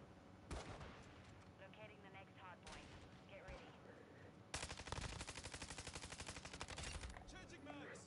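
An assault rifle fires in a Call of Duty-style game on PS5, loud close bursts of rapid automatic gunfire, the densest rattling run coming near the end, with someone talking between shots.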